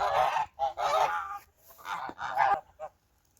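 Domestic geese on a household farm honk close by in several loud, overlapping bursts with short pauses, trailing off into quiet at the end, with no talking.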